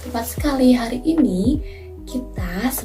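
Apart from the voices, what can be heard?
No distinct noise like a dog, phone or traffic.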